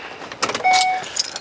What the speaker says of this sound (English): Also on your key ring here, you're going to have a couple keys.